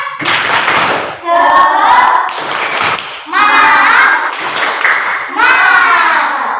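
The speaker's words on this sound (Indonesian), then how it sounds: "ayo kita tepuk semangat" Children in a classroom perform a rhythmic spirit clap, with sharp bursts of clapping between loud chanted voices, repeated in short phrases.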